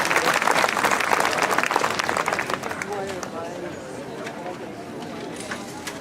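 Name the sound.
audience applause for the flag raisers, Troop 103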